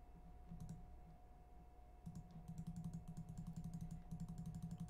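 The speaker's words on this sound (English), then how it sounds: "Just keep clicking." A computer mouse and keys being clicked rapidly while playing a PC game, with bursts of quick, close, faint clicks, sparse at first and then dense and continuous over a low electrical hum.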